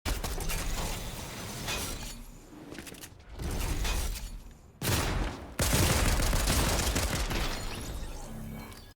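Gunfire in the video game Fortnite, dense continuous bursts of rapid shots and shattering impacts, loud and close, with brief gaps between volleys and no talk.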